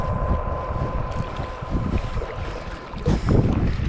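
Wind gusts roar across the microphone on lumpy open water during a paddle on a Pryml Spartan Fire Fisher kayak, with low rumbling buffeting and water wash, louder near the end.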